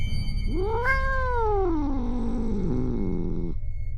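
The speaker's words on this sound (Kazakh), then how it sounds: "Кенет түнгі 2-лер шамасында мысықтың мяулаған даусына Эмма оянып кетеді." Around two at night a lone cat gives one long, drawn-out meow that rises and then slowly falls, close and clear over a steady low background hum.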